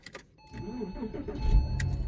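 A Porsche Boxster, just cleared of immobilizer fault codes, cranks briefly and catches. The engine settles into a close, steady idle, preceded by a couple of faint clicks.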